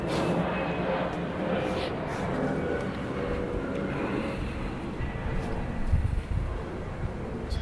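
An airplane passing near an airport, a loud broad roar that holds steady throughout and swells slightly toward the end.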